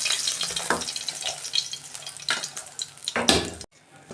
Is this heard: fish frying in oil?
yes